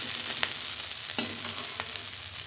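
Vegetables with potato, beetroot and carrot fry in a hot pan, a steady close sizzle broken by a few sharp crackles and spatters.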